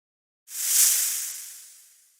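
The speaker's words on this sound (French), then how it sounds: "Le serpent siffle." A single sharp hiss bursts in and slowly fades away, close and isolated.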